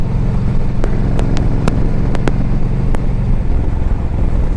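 A 2007 Yamaha V Star 1300 motorcycle on a test ride, its engine a loud, continuous low throb mixed with wind rush, with a few sharp ticks or clicks spaced across the steady drone and no talk.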